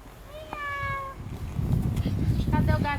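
A child imitates a kitten's meow while crawling through a sheet tunnel in a preschool activity, several drawn-out mewing calls rising over a busy room full of children's voices and adult talk.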